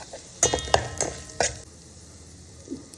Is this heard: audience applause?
no